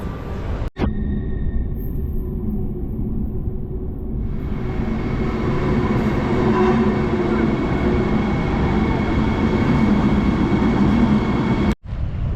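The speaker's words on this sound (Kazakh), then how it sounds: "қазір Бранденбургтың жағына қарай Потсдамға баратын пойыз бар екен" Steady rumble and rolling noise inside a train travelling from Friedrichstadt toward Potsdam in Brandenburg, continuous and close, with a sharp click near the start and another near the end.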